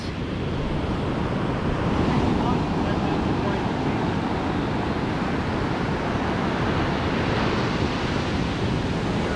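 Ocean waves on a Bali beach washing in as a steady loud roar of surf, with wind buffeting the microphone and no clear breaks.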